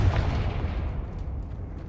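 A Confringo fire spell explodes in the Hogwarts Legacy video game, a deep rumbling boom that swells at once and then slowly fades into a low roar, loud and alone without talking.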